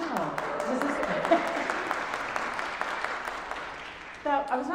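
Church congregation applauding during a sermon, a broad wash of clapping that holds steady and then fades, with a voice rising over it near the end.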